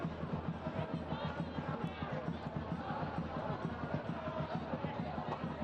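Stadium crowd at a night soccer match at BBVA Field, a low, continuous murmur of many voices with faint rhythmic thumps and stirrings, heard at a moderate distance.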